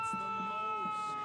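An emergency siren wails steadily in a Christmas parade in Smyrna near sheriff's department mounted patrol horses, heard at moderate distance beneath a person talking.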